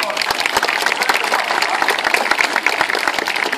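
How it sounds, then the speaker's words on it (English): Audience applause at a sea lion show at Flamingo Land, dense and steady clapping from a crowd that fills the whole stretch at close, loud level with no break. "I suppose you want another round of applause, don't you?"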